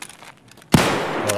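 A single sharp gunshot in the shooter game Escape from Tarkov cracks out loudly after a quiet moment, followed by a brief ringing tail.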